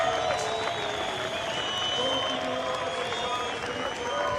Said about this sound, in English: the Portuguese crowd is erupting for their man